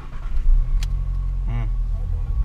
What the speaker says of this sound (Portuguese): Liga o carro.